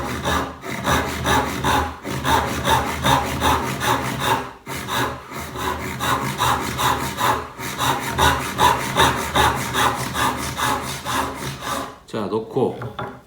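A hand saw cuts wood for a dovetail joint in steady rhythmic back-and-forth strokes, close and clear, pausing briefly twice before resuming, with a little handling noise at the end.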